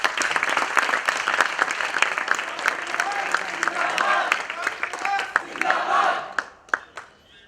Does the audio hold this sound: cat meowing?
no